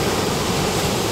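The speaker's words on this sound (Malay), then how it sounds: "Ombak boleh tahan kuat." Strong sea waves at a fishing spot on Teluk Cempedak, a steady broad roar of surf filling the whole moment with no pauses, loud and close.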